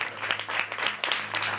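A church congregation claps together in a burst of rhythmic, fairly loud applause, the sharp claps coming in quick repeated waves with no voices over them.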